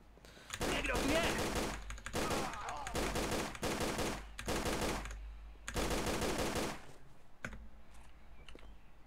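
Rapid bursts of automatic gunfire in the video game Tomb Raider: The Angel of Darkness, several loud sustained volleys separated by short pauses, with a few sharp single shots near the end.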